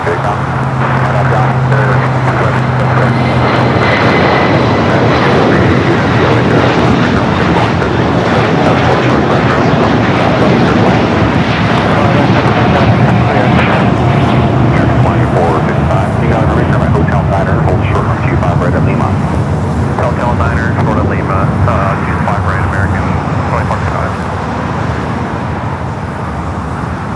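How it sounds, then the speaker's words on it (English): An American Airlines A321 takes off at LAX, its jet engines roaring loudly and steadily for a long stretch before slowly fading toward the end; a voice talks over the noise. "Next takeoff, American Airlines Flight 3175 heading to Charlotte, A321"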